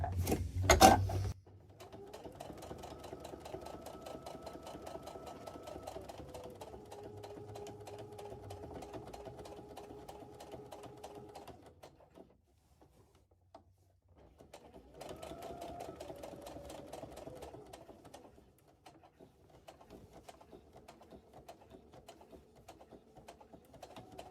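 A sewing machine stitches repeatedly along a fabric edge in a fabric appliqué quilting job, humming steadily in long runs broken by a short pause, close and fairly quiet.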